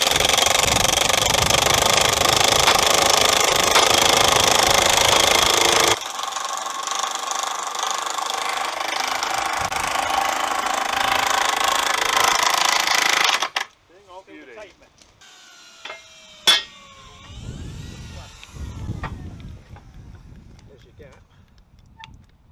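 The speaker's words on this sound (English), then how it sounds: "the point was lifted back on and the process of drilling and screwing was started with some adjustments to the gauge." Powered drilling and screwing during railway track work on a point: a loud, steady mechanical roar for several seconds, then a lighter run, before it drops to quieter outdoor sounds with people talking.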